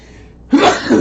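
A single sharp sneeze bursts out after a half-second of quiet, loud and close.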